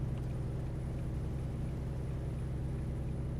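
A truck engine in American Truck Simulator gives off a low, steady rumbling drone, quiet and continuous throughout, with no talking.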